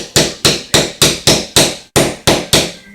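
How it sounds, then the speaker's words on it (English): Rubber screwdriver handle tapping on a 150 cc carburetor during a rebuild, eight sharp, evenly spaced knocks at a steady rhythm, close and loud with no talk. "Tap this with a rubber screwdriver handle."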